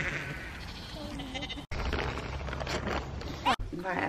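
Sheep bleat repeatedly close to the microphone in a farm setting, wavering calls overlapping each other, with a couple of abrupt cutoffs.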